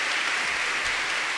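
An audience applauds at a Christian worship concert, a steady, dense wash of clapping that fills the short stretch without a break.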